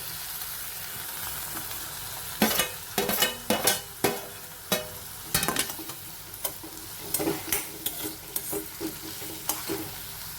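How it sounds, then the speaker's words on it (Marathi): Onion, carrot and tomato sauté over medium heat, a soft constant sizzle punctuated by a series of crisp spatula scrapes and taps against the pan, close and clear, with no voices. "एक दोन मिनिटं कांदा छान परतून घ्यायचा मीडियम हीटवर गाजर घालूया ते पण थोडंसं मऊ होईपर्यंत परतायचं"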